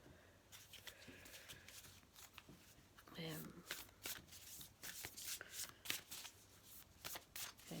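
A Moonology oracle card deck being shuffled by hand, giving repeated riffling and flicking card sounds over several seconds, close and soft, with faint talk in the background.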